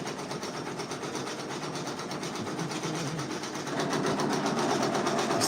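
An embroidery machine stitches out a cartoon character design, its needle running in a steady rapid mechanical chatter that holds constant and grows slightly louder near the end, heard alone with no talking.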